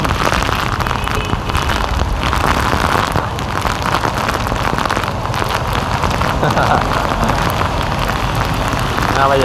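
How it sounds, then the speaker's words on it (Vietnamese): Heavy, dense storm rain pours down loudly and continuously in Saigon during Storm No. 4, a thick roaring hiss with no pauses, close and overwhelming. "Thấy mưa chỗ này là bão."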